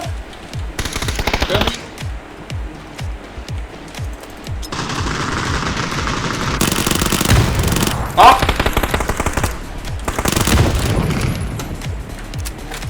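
Bursts of automatic gunfire in PUBG, sharp rapid machine-gun volleys and single booming shots repeating near and loud across the stretch, with someone shouting callouts between and over the shots.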